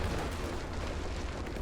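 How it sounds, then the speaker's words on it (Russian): A broad, rumbling blast from the video game Company of Heroes 3, set off through tunnels. It carries as a dense, sustained roar at moderate loudness. "Что за взрыв?"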